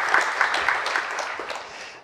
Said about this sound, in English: So do you want to give them a wee round of applause?